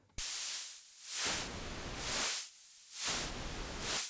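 White noise from the noise oscillator of the Ableton Live Poli synth, a steady hiss that swells and thins in slow sweeping waves as its tone shifts between bright and dull.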